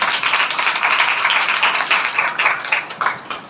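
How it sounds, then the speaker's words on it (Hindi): Audience applause at a Christian sermon gathering, steady dense clapping from many hands running throughout, fairly close and even, tapering slightly at the end. "सच को तालियां दें।"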